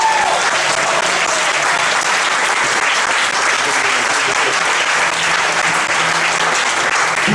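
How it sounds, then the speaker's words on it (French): Sustained, dense applause from a church congregation fills the space evenly for several seconds, loud and steady, with faint voices mixed into the clapping. "Est-ce que tu peux l'acclamer?"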